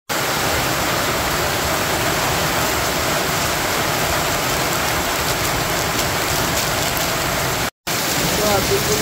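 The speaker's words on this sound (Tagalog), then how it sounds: "Grabe ulan di, guys" Heavy rain pours steadily on a farm, a dense continuous roar of drops drumming on surfaces, loud and close throughout with one brief break near the end.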